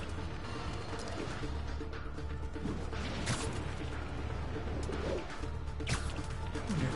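Pigeons coo in a Spider-Man video game, soft throaty calls rising now and then over a steady low rumble of city ambience, with a few sharp crashes and bird chirps in between.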